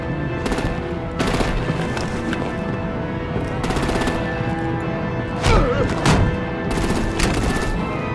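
Rapid artillery and gunfire in a Batman Telltale Series video game, with dense bursts of shots over a loud, continuous action soundscape and a couple of heavier impacts partway through.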